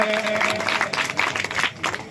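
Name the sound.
applause for the seva camp organisers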